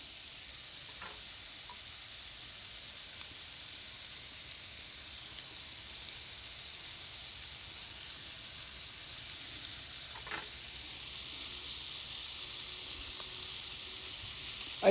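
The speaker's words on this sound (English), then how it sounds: "These are really tiny scallops, so I'm just gonna flip them over here" Very small scallops sear in a hot skillet outdoors on a deck, a steady, moderate hiss of sizzling fat with a couple of brief clicks from flipping, no one speaking.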